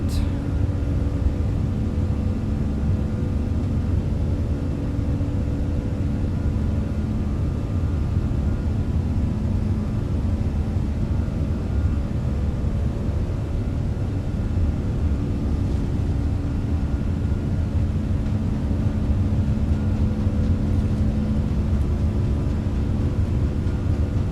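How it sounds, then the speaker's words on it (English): Finnair Airbus A340-300 jet engines at takeoff thrust, heard as a loud, steady, unbroken roar with deep rumble that holds level throughout the whole run, with no voices over it. "chrono 1, chrono 2, and takeoff thrust. Approaching 2, 3. Takeoff power is set."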